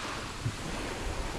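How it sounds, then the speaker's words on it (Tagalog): Ocean waves roll steadily onto the beach at Balicasag Island, Panglao, Bohol, a continuous loud wash of surf mixed with wind buffeting the microphone, with no voices. "Umaga, lakas yung alon."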